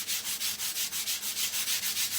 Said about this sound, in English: finer grit sander, and I'm just not trying to distress at all